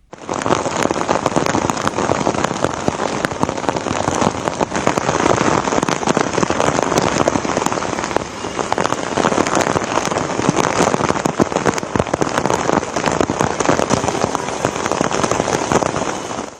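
Heavy monsoon rain pours steadily across Mumbai during a red alert with flooded roads, a dense, continuous loud hiss of downpour on surfaces with no pauses, close and enveloping throughout.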